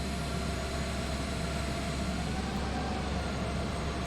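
A large airliner arriving at Montego Bay in a flight simulator game, a steady, even engine roar with a constant hum and no change in loudness, no voices.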